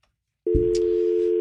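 A phone call being placed: after near silence, a steady ringback or dial tone hums on a fixed pitch, with a brief clunk of the line picking up under it.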